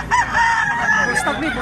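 Black-legged stag rooster crowing close by, a single drawn-out crow under low background noise.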